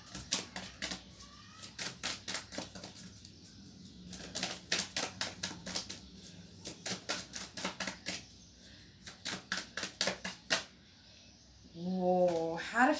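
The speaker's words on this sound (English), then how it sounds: "I love shuffling the cards." Tarot cards are shuffled by hand in repeated bursts of rapid, crisp clicking and flapping, close and fairly quiet, with a brief voice near the end.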